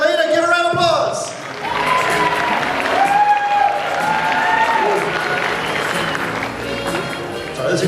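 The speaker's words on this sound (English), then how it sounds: "Give her a round of applause." Audience applause and cheering for a cosplay contestant on stage at a convention contest, a loud, sustained crowd sound with tonal music-like lines running through it, steady across the whole stretch with a brief dip early on.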